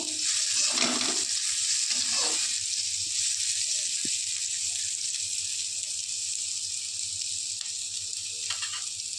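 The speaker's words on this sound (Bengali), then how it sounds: "নুন দিয়েও একটু নাড়াচাড়া করে নেব।" Salted food frying in a pan for a Bengali ridge gourd and paneer dish, a steady high hiss of sizzling with a few soft scrapes and knocks of stirring near the start, continuous and moderately loud.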